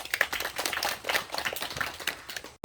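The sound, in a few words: audience applause at a memorial ceremony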